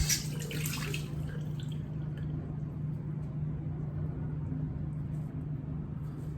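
Water runs steadily from a tap to rinse soap off a hairpiece, a constant close splashing wash over a low hum.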